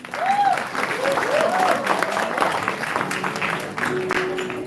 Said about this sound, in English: please give a round of applause for SSP